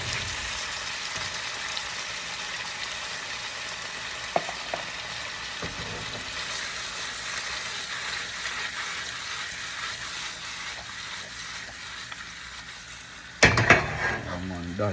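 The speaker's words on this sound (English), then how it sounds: "give it a little stir, mix it in properly" A pot of Jamaican-style food sizzles steadily while a spoon scrapes and stirs, with occasional soft clinks and a sharp clatter of cookware near the end.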